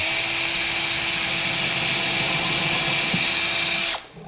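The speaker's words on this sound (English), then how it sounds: "drill a pilot hole into the wood here" A power drill whines loudly and steadily, close by, boring a pilot hole into the wood of a swarm trap for several seconds before abruptly stopping.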